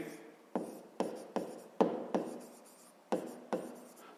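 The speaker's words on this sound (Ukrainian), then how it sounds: "давайте запишемо так, пишемо перше" Pen or chalk strokes on a writing surface while a square's side and area are worked out for a fifth-grade math exercise, eight sharp taps in a steady, close rhythm with short scratchy trails and no talk.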